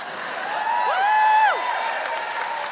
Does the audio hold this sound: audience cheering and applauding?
yes